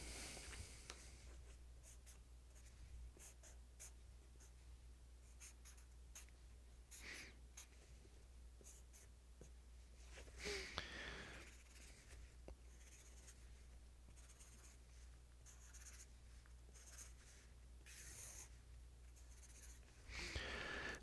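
A pen drawing a mixer diagram on paper: soft scratchy strokes in short bursts and longer lines, close and quiet, with a low steady hum underneath and no talking.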